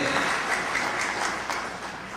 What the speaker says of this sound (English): Let's give our physicians a large applause